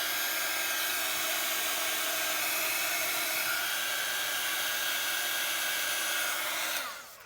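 Hair dryer blowing steadily and close to dry a freshly painted splat, a loud, even airy whine holding for about seven seconds before it cuts off at the end.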